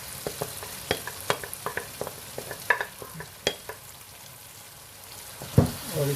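Roasted eggplant for baingan bharta stirred in a frying pan, a low sizzle under sharp irregular scrapes and clinks of the spoon against the pan, heard close with no talk.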